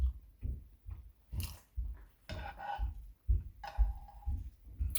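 Close, wet chewing of creamy gochujang milk ramen comes in soft repeated bites and slurpy mouth sounds, with light clinks in between.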